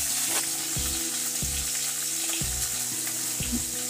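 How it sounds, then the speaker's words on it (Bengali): Small carp fish frying in a wok, a loud, dense crackling sizzle that runs throughout, close by, with a few dull knocks of the pan and no voices. "আমি দুটো ব্যাচে মাছগুলো ভেজে নেব"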